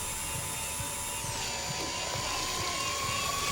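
A whining power drill in the horror game Stories Untold spins up near and loud, its pitch shifting upward partway through over a steady mechanical drone.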